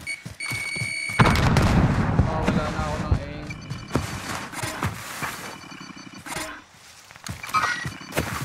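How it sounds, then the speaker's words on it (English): Frag grenade blast in Call of Duty Warzone on Caldera, a loud boom after sharp game clicks, followed by scattered impacts and footsteps under in-game voices. "Frag out!"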